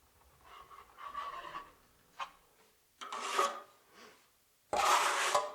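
A drywall trowel scrapes and spreads joint compound in short separate strokes, some soft and some sharper, with brief pauses between them, up close and with no talking.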